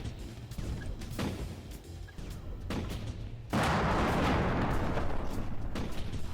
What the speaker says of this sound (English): pull the trigger on your controller, trigger button on your controller, and it's gonna shoot the gun